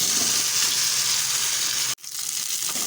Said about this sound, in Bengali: এবারে ভেজে রাখা ফুলকপি আলু দিয়ে দেবো।